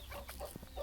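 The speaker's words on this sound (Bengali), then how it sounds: "এই মোরগটা কিন্তু আমার খুব একটা প্রিয় মোরগ" A deshi rooster on a native chicken farm gives a brief run of close, soft clucks in under a second, with no voices.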